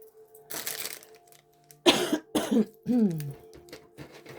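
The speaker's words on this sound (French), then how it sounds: "Excusez-moi si je tousse encore un peu, mais je suis encore un petit peu malade." A person coughs several times in quick bursts, a harsh hacking cough followed by a throat-clearing rasp, close and fairly loud in a quiet room.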